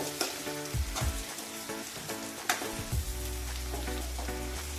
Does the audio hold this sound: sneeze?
no